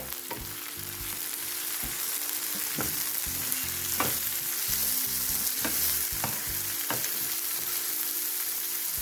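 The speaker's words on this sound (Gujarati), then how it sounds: "તમે જોઈ શકો છો કાંદા કેટલા સરસ સતળાઈ ગયા છે હવે આપણે એમાં એક ઝીણું સમારેલું ટમેટું એડ કરીએ છીએ" Sautéed onions and finely chopped tomato fry in a pan with a strong, continuous sizzle, while a utensil stirs and scrapes with repeated clicks close by.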